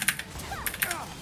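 A quick burst of computer keyboard typing, several sharp key clicks in an uneven rhythm, fairly close but soft against a faint room background.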